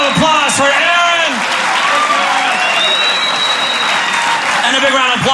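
Loud, dense applause and cheering from a comedy club audience, with whoops and shouts over the clapping and a sustained roar that stays full throughout.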